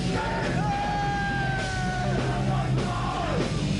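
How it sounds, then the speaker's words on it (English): Skinheads at a secret far-right concert in a smoky Leipzig bunker scream and bellow together, a loud sustained crowd roar of drawn-out yells rising and falling over dense background noise. "skinheads scream adoration for Hitler at a secret far-right gig"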